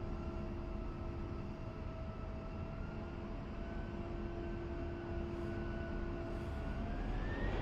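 A steady aircraft engine drone in the DCS flight simulator: a loud, continuous hum with clear sustained tones, one pitch rising slightly near the end, alone without talk.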